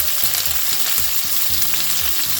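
Meatballs just flipped in a pan fry with a loud, steady close sizzle and crackle, alongside low rhythmic bubbling from the oil, with no one speaking.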